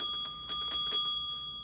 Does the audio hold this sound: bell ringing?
yes